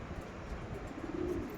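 Mangalagiri and Andhra Lalsira pigeons coo in a low, continuous murmur, quiet and close, alone without talk.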